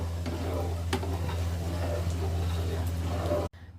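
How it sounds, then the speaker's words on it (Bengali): A spoon stirs homemade soup in a pan, with scattered scraping clicks and light taps over a constant low hum and faint sizzle, ending abruptly. "এখন আমি সুন্দর করে নেড়েচেড়ে তুলে ফেলব।"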